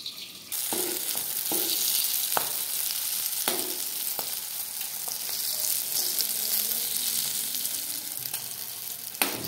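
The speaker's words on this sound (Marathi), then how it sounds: "आता एक साईडने आपले चांगले लाल भाजले मिरची, त्याला आपण दुसरी साईडने पलटून घेतले" Green chilies roasting in a pan, a steady broadband sizzle with occasional sharp pops and crackles, close and continuous, no voices.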